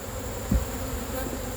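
Honey bees hum around an open hive during an inspection, a steady low buzz with one brief louder swell of wingbeats close by.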